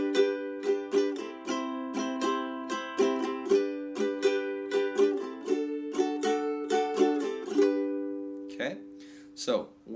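A ukulele strums a song intro in a down, down, up, down, up pattern, bright rhythmic chords repeating steadily up close, ending in a few looser strums.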